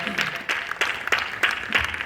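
A church congregation breaks into applause during a French-language sermon, a short burst of clapping with rhythmic hand-claps standing out, fairly close and loud.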